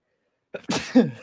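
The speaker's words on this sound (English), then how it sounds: "I'm about to sneeze." A single sharp sneeze, a quick inhale followed by an explosive burst, close and loud against silence.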